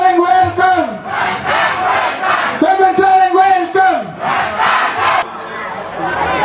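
Crowd at a political rally in Sonari, Assam, raising loud chanting slogans in repeated rhythmic shouts, with cheering bursts between calls, close and forceful.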